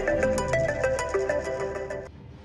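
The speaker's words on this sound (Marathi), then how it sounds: "आता मध्येच कोणाचा फोन वाजला रे?" A phone ringtone plays as a loud, bright melody of repeating tones that cuts off abruptly near the end, leaving quiet room noise.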